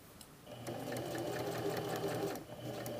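A sewing machine stitches a welt on a jacket pocket, running steadily and fairly close for about two seconds before stopping, with a quieter mechanical hum before and after.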